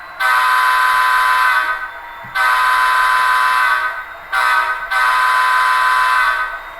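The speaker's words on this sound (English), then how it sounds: "Now when I blow the horn," A model locomotive's directional airhorn blows in three sustained loud blasts, each a steady multi-tone chord with short gaps between them, standing alone without talk.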